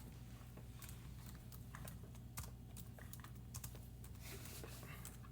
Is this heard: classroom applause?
no